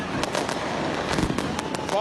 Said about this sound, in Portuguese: Fogos iluminaram o céu por toda parte.